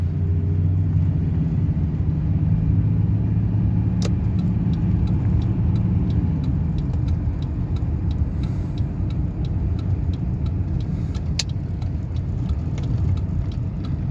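A Nissan drives through Friday evening traffic in Kerava, Finland, giving a steady, loud in-cabin engine and road rumble with faint ticking throughout and no talk.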